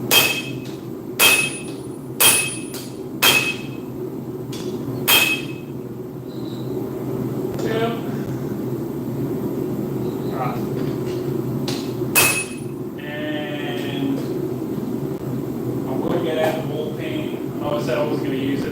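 A hammer smacks steel in a handful of sharp, ringing blows spaced over the first few seconds, with one more strike later, while someone talks at intervals over a steady background hum.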